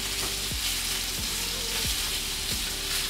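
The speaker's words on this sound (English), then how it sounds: "So these bacon are just gonna go for a few minutes on each side" Bacon sizzles in a pan, a dense, loud, constant frying hiss that fills the whole stretch with no voices.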